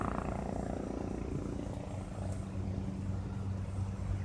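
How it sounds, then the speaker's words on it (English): A small white remote-control helicopter with a tail silencer hovers nearby, giving a steady, moderately faint whirring drone with a constant motor hum throughout and no speech. "This is a little white copter."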